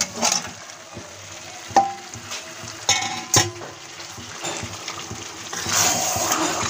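Chicken going into a hot pan for a spicy Bengali chicken curry (kosa), a steady sizzle punctuated by a few sharp utensil knocks and scrapes, ending in a louder burst of frying.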